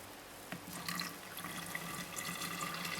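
Lime cordial juice, cold, splashes and trickles steadily into a container, a continuous close pour with a faint bright ringing, no voices.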